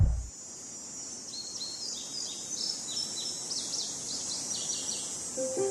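Morning birdsong in a music demo, with repeated high chirps and tweets over a faint insect-like hiss, steady and fairly soft with no voices.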